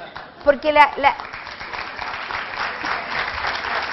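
At a festival talk, an audience breaks into applause that swells after a short spoken phrase and then holds as a broad, moderately loud crackle of many hands.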